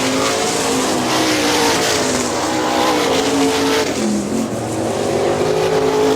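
410 sprint cars race at Hartford Speedway Park in Michigan, their engines roaring loud and continuous at close range with rising and falling revs.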